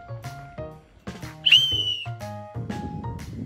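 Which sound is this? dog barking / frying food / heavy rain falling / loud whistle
loud whistle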